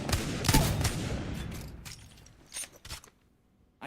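Gunfire in the video game FragPunk, dense rapid shots at first that thin out into a few separate cracks before going quiet, moderately loud.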